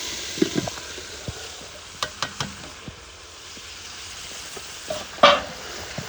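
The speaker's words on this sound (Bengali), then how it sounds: "এদিকে পেঁয়াজ ভাজা হয়ে গেছে আর এখন মুরগ দিতেছি।" Gentle frying sizzle as chicken is added to fried onions, with scattered clicks and scrapes of a spoon stirring in a pan, and a sharper burst of spitting oil near the end.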